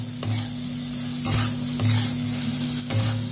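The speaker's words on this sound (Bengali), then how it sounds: "এবার আমি নাড়তে থাকবো" A spoon scrapes and stirs semolina halwa with sugar and salt in a pan, giving a few rhythmic scraping strokes over a low steady hum, close and fairly loud.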